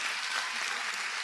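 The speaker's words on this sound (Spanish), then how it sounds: "Denle un aplauso al Señor Jesucristo, mis hermanos." A church congregation claps together, a full, even burst of applause heard alone without speech.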